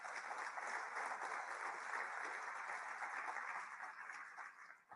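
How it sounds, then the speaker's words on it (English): Audience applause fills a UN meeting hall, a steady wash of many hands clapping that holds evenly and then thins out near the end, with no talking over it. "Big applause."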